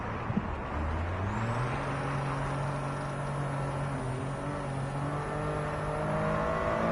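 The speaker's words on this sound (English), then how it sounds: "A ridiculously turbo-boosted 3-cylinder engine." Ridiculously turbo-boosted 3-cylinder car engine in Gran Turismo 7, a steady droning hum with rising and falling tones that builds gradually, heard alone without talk.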